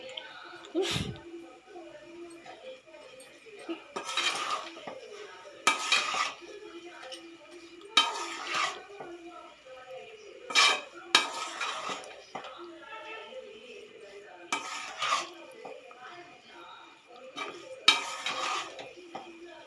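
A spoon scrapes and clatters as veg noodles with cheese are stirred in a pan, in repeated short bursts of metallic scraping at an unhurried rhythm while a person talks.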